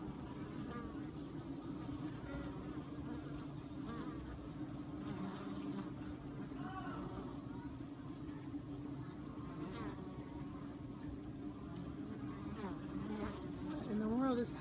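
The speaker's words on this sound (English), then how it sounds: "There's like a little fight. I don't know if they're trying to get rid of this bee or..." Bees buzzing and scuffling near a hive on a farm, a constant low drone with shifting whining tones as insects fight, growing louder at the very end.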